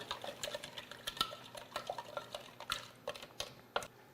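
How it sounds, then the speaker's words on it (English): Utensil clinking and scraping against a bowl while marinade ingredients are stirred together for a bacon-wrapped pork tenderloin, a steady run of light, close taps and scrapes with no talk. "I just want to get this all mixed in together."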